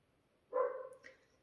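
A single dog gives a sharp bark followed by a softer, shorter yelp, fairly close and otherwise alone in a quiet room.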